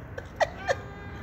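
A cat gives two or three short, faint meows in quick succession against a low background hum.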